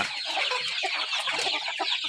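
Hens, Burmese gamefowl at feeding time, cluck in quick overlapping bursts close by, busy and continuous with no voices.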